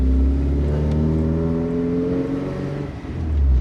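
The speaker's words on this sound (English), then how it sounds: "I'll go for a drive and see how good it is" A car pulls away on its first drive after a home string wheel alignment, its engine droning steadily close by and then revving up toward the end, with no talking.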